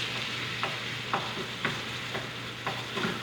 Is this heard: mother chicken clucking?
no